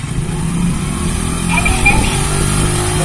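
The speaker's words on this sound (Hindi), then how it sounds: "ये बाइक स्टार्ट हो गया रिमोट से।" A Hero HF Deluxe motorcycle engine, started by a remote security alarm system, runs close by with a steady loud mid-pitched idle that swells slightly partway through.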